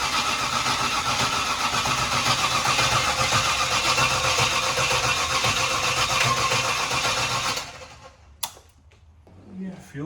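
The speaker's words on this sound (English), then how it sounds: "The engine itself, as it's turning over" A car engine that has sat with dry fuel lines cranks over loudly and steadily for about seven seconds, then the churning stops abruptly and a few clicks and faint sounds follow.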